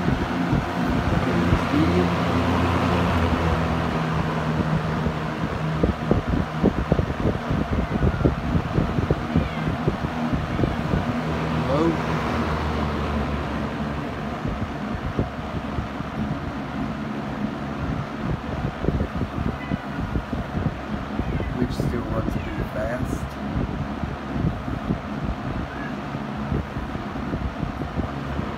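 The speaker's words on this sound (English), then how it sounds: "So here it is running. Here's high." A 1974 Lakewood 20-inch box fan with a Westinghouse motor running on high, giving a steady, loud airy whoosh with a low motor hum, with faint meows from a cat in the background.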